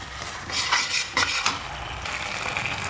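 A spoon stirs tomato, soy and chilli sauces together in a hot pan for a chilli chicken dish, making a few quick scraping strokes over a low, continuous sizzle, up close.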